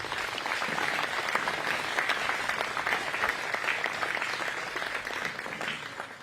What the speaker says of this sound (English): Please, round of applause for them.